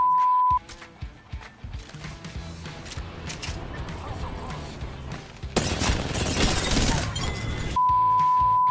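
Apex Legends combat in which R99 submachine gun fire breaks armor, a burst of bright shattering crackle arriving late over rapid shots and footsteps, loud and close.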